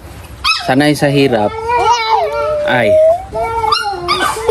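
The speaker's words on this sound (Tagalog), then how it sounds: "Kaawa niya yung aso." A dog whimpers and howls in drawn-out, wavering cries close by, with a person speaking briefly over it.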